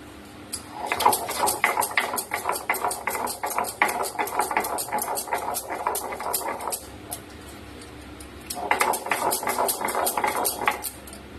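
Spices ground by hand on a stone grinding slab (shil) in a home kitchen, a steady run of scraping, knocking strokes that continues for several seconds, pauses briefly, then resumes, with faint background noise.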